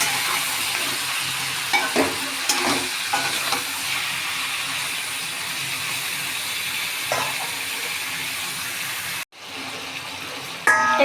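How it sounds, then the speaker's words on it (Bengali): Chicken korma with turmeric powder fries in a hot pan, a steady loud sizzle running throughout with occasional scrapes of stirring, then a brief cut and a quieter hiss with a few clinks near the end. "এখন ভালো করে একটু নেড়ে ছেড়ে ভেজে নেব"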